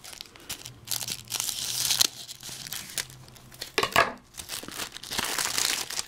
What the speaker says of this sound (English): Good thing I got my scissors right here.